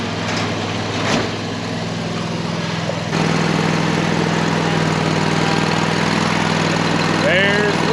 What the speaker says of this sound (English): I'm getting the mowers up here because Lathan likes to do the blades.